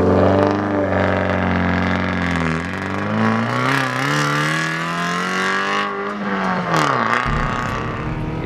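A 2013 Mazda2 B Spec race car with an aftermarket catback exhaust on a racetrack, its engine loud and close as it revs through rising and falling gear pulls, with brief drops between shifts.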